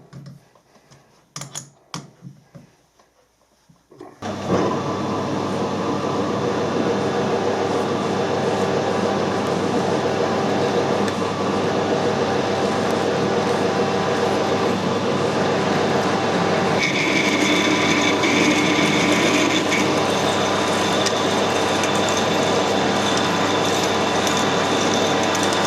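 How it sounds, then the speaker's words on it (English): A well-sharpened drill cuts into metal on a lathe in a workshop during internal screw-cutting work. After a few seconds of faint clatter, a loud, continuous grinding whir runs without a break and grows slightly brighter partway through. "Nice to see a well-sharpened drill working"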